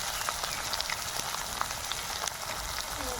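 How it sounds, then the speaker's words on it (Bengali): Spice paste of ground coriander, green chilli, ginger and pepper being sautéed with salt and turmeric in a pan for a potol paneer curry: a soft, steady sizzle with faint crackles and pops throughout, with no talking. "পরিমাণ মতো লবণ আর হলুদ দিয়ে মশলাটা আগে একটু কষিয়ে নেব।"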